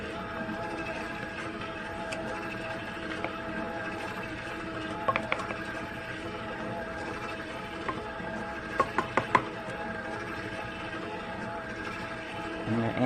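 A mixer beats cream cheese pound cake batter in a home kitchen, its steady motor drone running throughout with occasional clicks and knocks of the beaters against the bowl.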